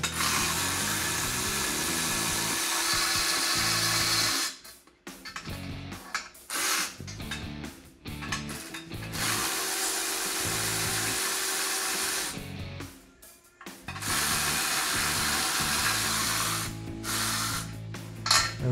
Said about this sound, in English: we're gonna remove the pressure plate bolts, 13 millimeter